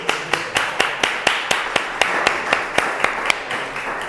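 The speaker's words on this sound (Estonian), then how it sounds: "aplaus pakkujatele" Steady rhythmic clapping from a small group of people at an art auction of guitars in a gallery, about four claps per second, crisp and close, with no talk over it.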